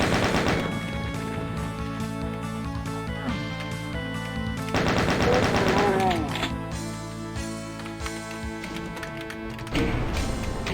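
Chaingunner enemies in the video game RAMP 2023 fire rapid repeated shots over loud game music, with the clatter running through most of the clip.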